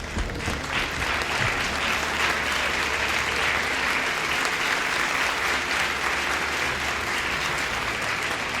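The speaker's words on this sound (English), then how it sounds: "Why don't we give him another round of applause?" A live audience gives a sustained round of applause at a comedy show, steady and dense for the whole stretch with no pause, filling the room at a strong, even level.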